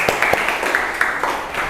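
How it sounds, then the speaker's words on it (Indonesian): A classroom group applauds presentation group 3, with close, loud clapping repeating in a quick, uneven rhythm for a couple of seconds. "Tepuk tangan kelompok 3."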